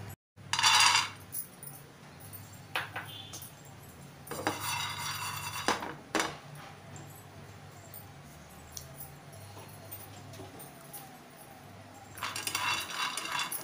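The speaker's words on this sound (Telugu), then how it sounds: "ఇప్పుడు ముందు దీన్ని మనం ఒక పక్కకు పెట్టేసుకుని ముందు ఫస్ట్ ఈ పల్లీలు వేయించుకుందాం." Peanuts roast in a pan, with short, sharp bursts of rattling and clinking as they are tossed and stirred, separated by quieter stretches of faint background noise.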